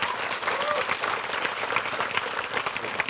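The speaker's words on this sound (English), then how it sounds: "You can clap." An audience applauds award winners called up on stage, a dense, steady wash of clapping that holds at an even level throughout, with a faint voice briefly audible underneath.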